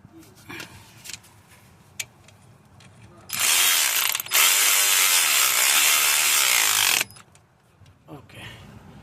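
Ratchet wrench tightening a front brake hose fitting on a 2015 Chevrolet Captiva Sport, a loud, close, continuous rapid clicking burst lasting several seconds, briefly interrupted, after quieter handling noises.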